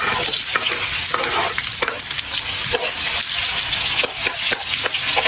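Ginger, garlic and onion sautéing in hot oil for a fish dish, a loud steady sizzle with repeated stirring scrapes of a utensil against the pan, no voices.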